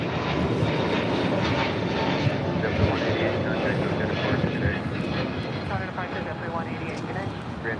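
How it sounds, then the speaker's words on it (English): A brand-new Delta Airbus A321neo airliner at LAX gives a loud, steady jet roar that fills the whole stretch without letup, with a voice talking faintly underneath. "Delta Airlines Flight 753 on this A321neo, brand new, just delivered in June of this year."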